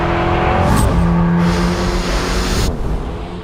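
An Alpine A110 sports car's turbocharged petrol engine revs hard close by, a loud, continuous rising and falling roar with a sharp throttle blip partway through.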